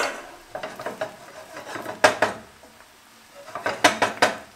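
Eggplant cubes being tossed and stirred in a pan with a utensil, with clustered scraping and clattering knocks in irregular bursts, close and fairly loud, no talking.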